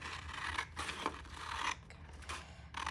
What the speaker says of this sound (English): take the scissors, Cut it. cut them on that line.